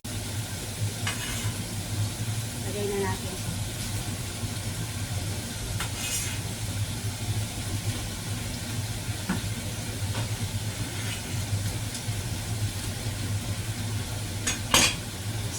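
Vegetables stir-fry in a pan with a soft, continuous sizzle, punctuated by occasional light clinks and scrapes of a utensil against the pan; no one speaks.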